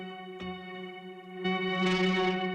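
A sustained synth tone with steady harmonics, a click early on, then a washy, heavily reverberant swell fills in and lingers to the end.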